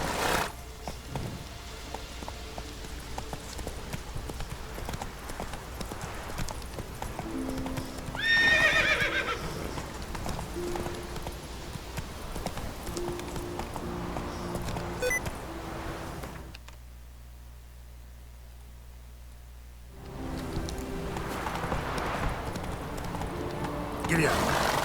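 A horse in The Witcher 3: Wild Hunt video game, with steady clip-clopping hooves and a neigh partway through, over background game music, with a voice speaking briefly.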